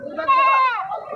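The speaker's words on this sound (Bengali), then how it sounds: "তো দেখছেন এখানে কিন্তু প্রচুর ছাগল আছে।" Goats bleat at a busy goat market in Hazratpur, Keraniganj, Dhaka, crowded with mother goats in light drizzle; one long, clear quavering bleat rises over a murmur of background voices and other animals.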